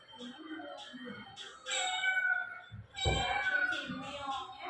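A domestic cat meows several times in short, fairly close calls, with a voice speaking between and over them.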